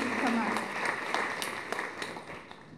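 A conference audience at a women's policy event applauds in a dense wash of clapping that fades toward the end, with voices mixed in.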